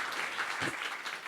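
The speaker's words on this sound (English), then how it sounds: "All right, round of applause." Brief burst of audience applause at a Net Zero Cities climate tech panel discussion, a dense, even wash of clapping lasting just over a second, moderately distant in a hall.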